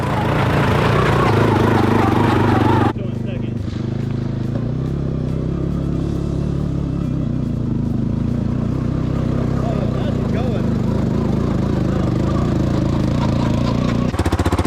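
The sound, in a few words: Honda Fourtrax 300 6x6 ATV engine running with weird noise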